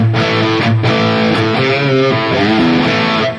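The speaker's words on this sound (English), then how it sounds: "JCM 800-ish sounding" An electric guitar plays through a Valeton GP-200 modeler set to a JCM 800-style amp tone, loud, distorted and continuous, with strummed chords ringing alone.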